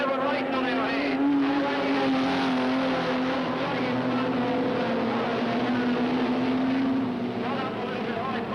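Race cars roar around Redline Raceway in a 1988 race, a sustained, droning engine note that holds steady and shifts slightly in pitch as the cars run close together on the track.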